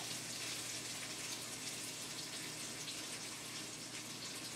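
Liquid runs and trickles across a tilted stir-fry pan of chicken and cabbage, a steady, close wash of flowing sound that continues unbroken throughout with no talking.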